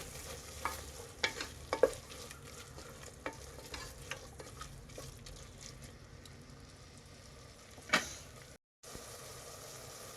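A spoon stirs a mint and chopped coriander mixture in a pan, giving soft scraping strokes over a low sizzle, with a few sharper clinks against the pan before a brief drop to silence.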